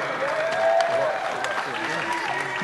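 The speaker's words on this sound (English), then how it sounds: "give a big round of applause" An audience gives a loud, steady round of applause for boxer Floyd Mayweather, with crowd noise and voices audible in the mix.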